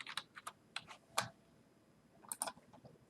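Someone types on a computer keyboard while setting up a PuTTY connection: scattered bursts of crisp, close key clicks with short pauses between them, fairly quiet, with no talking.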